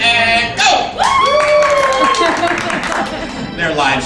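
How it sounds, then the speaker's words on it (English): A small group at an Adventurers Club show cheers and applauds on cue, with whoops, shouts and clapping mixed together, loud and close, carrying on for several seconds. "you begin to cheer and applaud uproariously"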